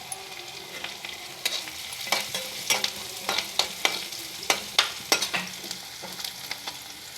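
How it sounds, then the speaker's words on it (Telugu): Jackfruit pieces fry in a hot pan with a steady background sizzle, while a spatula stirs them in repeated scraping strokes that come close and fairly loud, with no voices. "ఇప్పుడు పనసకాయ ముక్కలు ఇందులో వేసుకుందాం, ఫ్రై చేసుకుందాం"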